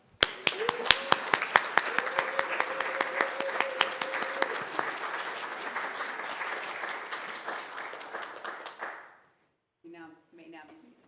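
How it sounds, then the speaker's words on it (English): A church congregation at a Sunday service applauds its leaders with dense, steady clapping that fades out after about nine seconds, while a sustained tone runs faintly beneath it early on and a brief voice follows at the end. "Let us now show our appreciation to all these awesome leaders with a round of applause."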